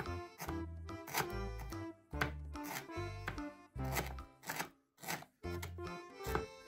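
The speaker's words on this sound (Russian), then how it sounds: "Затем нарезаю достаточно мелко" A knife finely chops dandelion roots on a cutting board in quick bursts of steady strokes, close and crisp, with brief pauses between runs.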